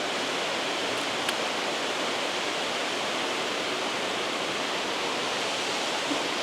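A waterfall in autumn pours steadily, making a constant, dense rushing hiss that stays even from start to end with no voices or other sounds.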